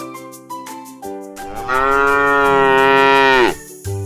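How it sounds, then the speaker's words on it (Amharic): A cow moos once in a long, loud, sustained call, preceded by a few brief clicks and followed by a short further sound, with no talking. "ማናት? ላም። አዎ ላም ናት።"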